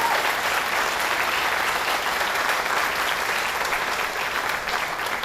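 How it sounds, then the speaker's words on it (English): Steady applause from a crowd at a breast cancer motorcycle ride stop in Buffalo, a dense even patter of many hands clapping, close and loud throughout with no voices over it. "Let's give Sandy a big round of applause."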